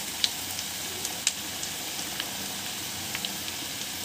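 Thickly cut onions frying in a pan for egg biryani give a steady soft sizzle, with faint scattered crackles and pops throughout.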